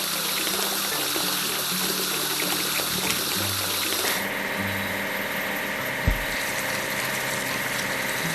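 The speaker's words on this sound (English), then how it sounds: "Let's wash the dump truck." Water sprays onto a dump truck in a kids' railway-station building game, a steady hiss over engine hum that brightens after a few seconds, with one short thump near the end.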